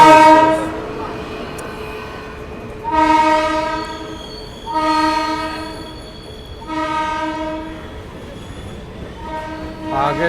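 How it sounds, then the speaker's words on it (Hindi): A Howrah-based WAP7 electric locomotive hauls the Purushottam Express, sounding a series of loud horn blasts, each a few seconds long, over the steady rumble and squeal of the train's wheels on the rails. "यही हमारा लीड लोकोमोटिव हावड़ा का WAP7 और ये है ट्रेन पूरे नई दिल्ली पुरुषोत्तम एक्सप्रेस"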